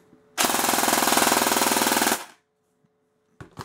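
A rapid, continuous burst of automatic gunfire from a gun firing about 25 rounds per second, lasting about two seconds, extremely fast and loud, followed by quiet.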